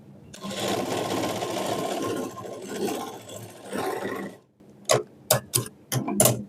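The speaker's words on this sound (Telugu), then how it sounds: "పైన ఒక స్టిచ్ అయితే వేసుకోవాలి." A sewing machine stitches lehenga fabric, first in a long continuous whirring run that pauses briefly and resumes, then in several short, sharp bursts near the end.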